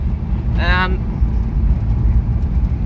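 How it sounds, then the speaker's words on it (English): A Toyota Hilux truck engine gives a steady, loud low rumble throughout, with a brief tonal burst near the start. "We've traded it for this Hilux, which sounds fucking phenomenal."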